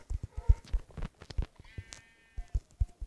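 Sheep bleat a few times in the survival video game Game of Survival, with clicky footsteps and soft thuds around them, fairly close and moderately loud.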